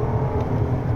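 A Mercedes-Maybach S680 with its 612-horsepower V12 pulls hard under acceleration, producing a steady, loud low rumble that holds for about a second with no voices over it.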